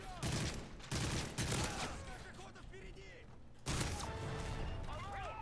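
Rapid bursts of gunfire from MW3 Survival mode ring out in a game, loud, close and layered, stopping and starting in volleys.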